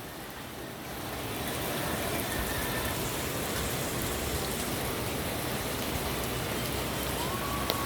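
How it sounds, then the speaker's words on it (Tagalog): Rain pours outside during a typhoon in the Philippines, a dense steady hiss of falling water that swells over the first seconds and then holds, with a faint siren-like tone drifting in the distance. "It's raining, man."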